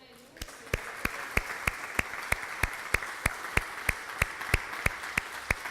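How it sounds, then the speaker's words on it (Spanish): A church congregation claps after a sermon, a steady rhythmic beat of about twenty claps at an even pace that builds slightly louder, with no talking over it. "¿Merece un aplauso Él?"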